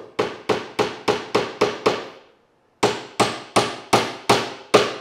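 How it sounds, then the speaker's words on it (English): A clamshell miter clamp is tapped into the wooden miter joint of a bed frame with two quick bursts of about seven sharp, evenly spaced hammer taps each, separated by a short pause. "special clamshell clamps that are for closing up miters, and you can tap it in"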